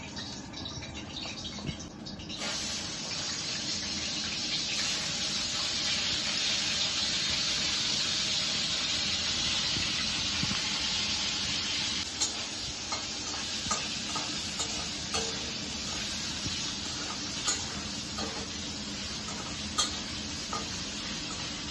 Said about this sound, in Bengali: এখন মাছগুলো একটু ভেজে নেব।